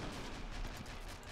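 Artillery fire rumbles through a battle in the Men of War: Assault Squad 2 video game at Peleliu Airfield, a dense, continuous barrage of booms and gunfire, faint and distant.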